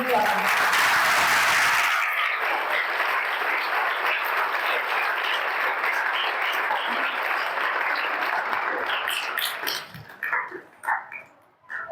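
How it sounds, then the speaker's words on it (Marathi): Loud, sustained audience applause welcoming guest Leena Sohoni at an interview event, a dense wash of clapping that holds steady for about ten seconds before thinning into scattered claps at the end. "सगळ्यांनी एकदा जोरात टाळ्या वाजवून त्यांची स्वागत."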